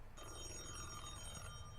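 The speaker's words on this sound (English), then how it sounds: "the phone's ringing" A telephone rings in a video game set in a nearly abandoned movie studio under renovation, a steady electronic ringing tone that runs close and continuous for the whole moment, with no voices over it.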